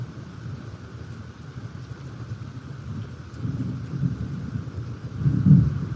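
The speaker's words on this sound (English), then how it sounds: "Ooh, some thunder, y'all." Low rolling thunder rumbles through steady rain during a live storm, building to a louder swell near the end, with no talking over it.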